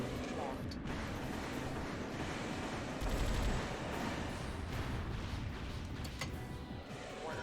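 Sustained gunfire and impacts pounding a player's mech in Armored Core 3, a dense, steady barrage of hits and explosions running throughout at low level.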